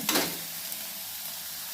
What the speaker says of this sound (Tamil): அந்த வெங்காயத்தை ஃபுல்லாக சேர்த்து நல்லா வதக்கி விடுங்க